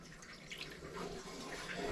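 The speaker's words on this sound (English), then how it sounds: "we're going to pour 1 can of coconut milk" A can of coconut milk pours into a warm pan over medium heat, a soft, continuous liquid gurgle and splash, faint and close with no talk.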